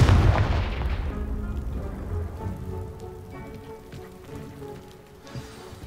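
A Confringo blasting curse goes off in a Harry Potter video game, a loud booming blast at the start that rumbles and fades into crackling debris over several seconds, with no talking.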